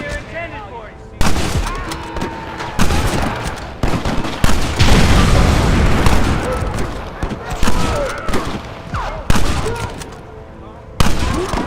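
Gunfire rings out in Red Dead Redemption, with sharp repeated shots and dense bursts of rapid fire, booming and echoing, broken by brief lulls over roughly twelve seconds.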